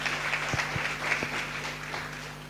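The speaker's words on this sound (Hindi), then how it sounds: "ताली बजा के प्रभु को धन्यवाद।" A church congregation claps in thanks during a service, a steady, moderately loud patter of many hands over a low electrical hum.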